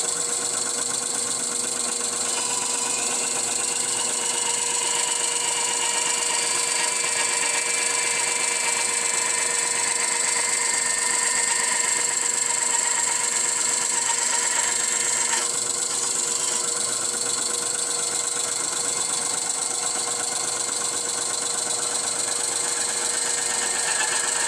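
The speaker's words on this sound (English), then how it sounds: "This is my old cheap Harbor Freight saw." An old, cheap Harbor Freight saw runs steadily and loudly for the whole stretch with a constant motor whine and buzz, close up, with no talk. A faint shift midway may be the blade meeting wood.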